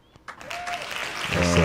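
A short burst of applause rising quickly and holding steady, with a voice talking briefly before it and a tone coming in near the end.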